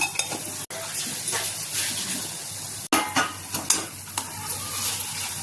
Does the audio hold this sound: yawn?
no